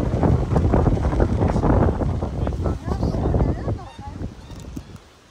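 Gusty wind in Kangaroo Valley, Australia, buffets the microphone with a loud low rumble, easing off toward the end.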